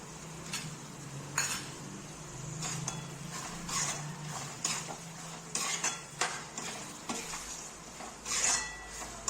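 Tomatoes with salt are stirred in a pan for paneer bhurji, with a soft sizzle under repeated scraping and clinking spoon strokes against the metal, close and unhurried, with no speech.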